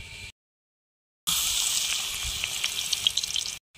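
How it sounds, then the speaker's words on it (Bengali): Pumpkin flower fritters coated in gram flour sizzle steadily in hot oil, a close, dense crackle that starts abruptly after a short gap of silence and runs on evenly with small pops. "এটাও বেসন লাগিয়ে নিলাম, এটাও চপ মতো করে ভেজে নেব"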